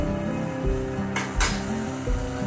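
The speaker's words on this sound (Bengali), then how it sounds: "ভালো করে মশলাটা কষিয়ে নেব" Spice paste being fried in a pan for a home-style curry, with a steady sizzle and spatula stirring and scraping throughout, plus two sharper bursts of hiss near the middle.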